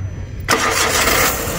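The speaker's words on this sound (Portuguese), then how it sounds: "O amigo vai dar partida ali para a gente escutar aqui o ruído do motor" A Fiat Uno engine cranks and catches at a used car fair, then roars into a loud, steady running rumble close by.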